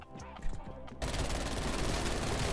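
Sustained rapid burst of MAC-10 submachine gun fire in a first-person shooter game, loud and continuous after a brief stretch of scattered shots and game noise.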